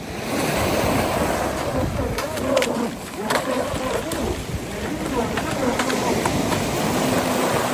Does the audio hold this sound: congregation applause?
no